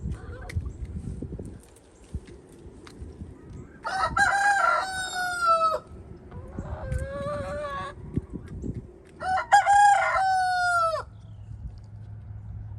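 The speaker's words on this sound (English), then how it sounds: "He's our old rooster." An old rooster in poor condition crows three times, long rising-and-falling calls spaced a few seconds apart, loud and close over a low rumbling background with some clucking.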